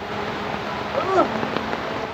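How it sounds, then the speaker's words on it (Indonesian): Heavy rain pours down in a steady, dense hiss that fills the background throughout, with a voice speaking briefly over it. "Hujan gede."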